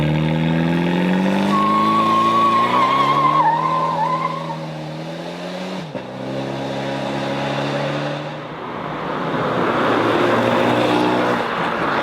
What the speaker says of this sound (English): And now with ESC off. Seeing the difference? There's more wheel spin